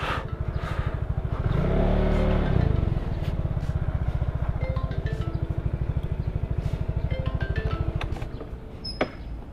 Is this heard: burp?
no